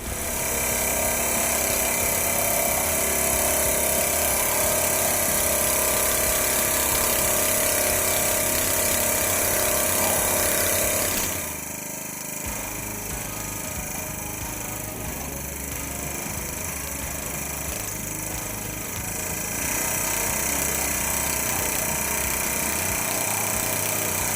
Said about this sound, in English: These cast planishing hammers are some of my favorite sheet metal tools.